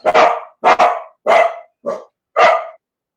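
A dog barks five times in loud, close, separate bursts spaced about half a second apart, with no one talking over it. The barking happens aboard a liveaboard boat.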